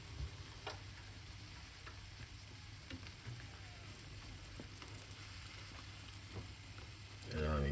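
Plantain fritters frying in oil in a pan, a steady low sizzle and crackle with occasional pops, continuous throughout before a louder burst of clatter at the end.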